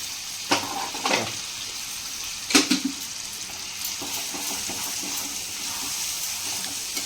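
Soaked dal for tadka frying in spice masala in a pan, a steady soft sizzle with a few sharp scrapes and clinks of stirring, fairly quiet and close, no talking.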